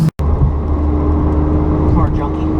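A Ferrari 550 Maranello V12 engine hums steadily from inside the cabin while driving, with a deep low drone beneath a person talking.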